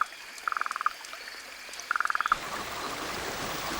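Australian frog croaking in two quick rattling bursts of about eight pulses each, close and clear, with running water or rain noise rising in the background.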